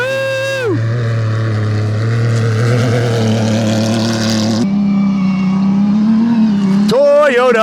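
A Toyota Gazoo Racing rally car at the Dakar Rally in the desert roars past loudly, its engine note rising and shifting pitch as it passes and revs, with excited shouting from nearby onlookers.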